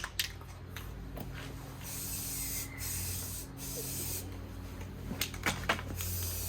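Rust-Oleum spray paint hissing from an aerosol can onto the cut end of a part during a gray water tank install on a Sprinter van, several short close bursts separated by brief pauses.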